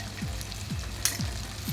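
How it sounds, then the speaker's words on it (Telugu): Cut okra, about half a kilo, dropped into hot oil tempered with asafoetida, sizzling and frying steadily with soft stirring scrapes at regular intervals, close and fairly loud, no talk. "ఒక మంచి కలర్ వచ్చే వరకు ఫ్రై చేసుకున్న తర్వాత మేము కట్ చేసి పెట్టుకున్న బెండకాయల్ని వేసేసుకోవాలి ఇందులోకి"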